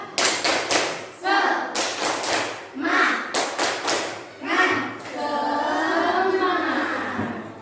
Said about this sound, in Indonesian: coba kita tepuk semangat satu kali lagi